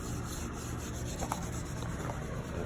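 Close, steady rasping scrub of a clutch flywheel being cleaned by hand rubbing during a clutch job on an MCI MC7 bus, a continuous abrasive texture over low shop hum, no talk.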